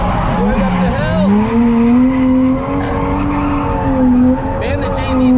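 A Toyota JZ-engined drift car revs hard while its tires squeal in long rising and falling wails on a mountain road, loud and close, with a voice talking over it.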